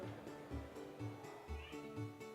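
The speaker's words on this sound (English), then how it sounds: "She's meowing." A cat meows several times in a row, each call short and fairly close, the calls evenly spaced over a faint background.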